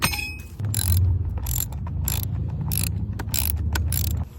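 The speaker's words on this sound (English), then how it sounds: "So you can use a socket wrench or a 5/16 inch standard" A socket wrench tightens a bolt on a hang glider frame, making a rapid ratcheting clatter in about six bursts with metallic clicks and ringing between strokes, close and loud.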